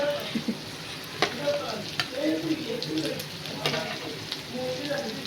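Paneer sizzles in a black wok with onion and tomato, frying steadily while a spoon stirs and scrapes in irregular bursts, close and moderately loud.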